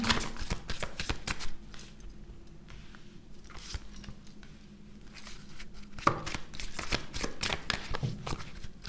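Tarot cards are shuffled and drawn from a deck in a rapid, close burst of papery riffling and flicking, easing into softer handling before another flurry of snaps.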